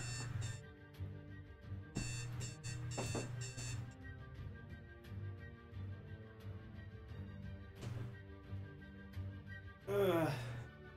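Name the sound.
loud alarm going off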